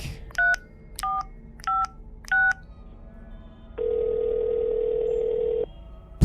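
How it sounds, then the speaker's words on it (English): A telephone number being dialed: four short, clear touch-tone beeps in an even rhythm, then a steady dial tone that holds for about two seconds before cutting off. "Dial, don't think."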